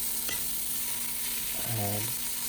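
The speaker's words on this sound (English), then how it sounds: "we're going to brown the meat and the vegetables at the same time" Ground meat, carrots and celery browning together in a soup pot give a steady, close sizzling hiss, with a short tonal scrape near the end.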